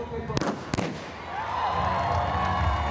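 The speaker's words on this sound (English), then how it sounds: "Joe Pavey there on the right with the starting pistol" A starting pistol fires twice in quick succession at the start of the Great North Run half marathon, sharp loud cracks followed by a swelling crowd roar.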